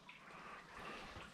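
Water trickles and drips steadily down a graduation tower in Bad Kissingen at night, making a faint, continuous splashing wash with no talking.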